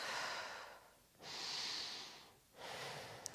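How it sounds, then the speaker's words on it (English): Slow, steady deep breathing during a gentle hatha yoga flow: three long, airy breaths close to the mic, each separated by a brief pause. "Steady, deep breaths."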